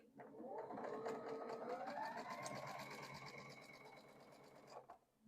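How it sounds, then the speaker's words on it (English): A sewing machine stitches a quarter-inch quilt seam, its needle chattering in a fast, even whir that holds steady for several seconds before slowing and stopping, heard up close with no talk. "I'm going to bring them to my machine"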